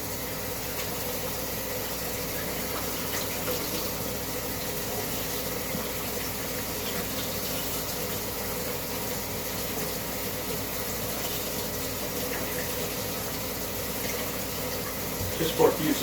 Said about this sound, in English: we come over and rinse with hot water.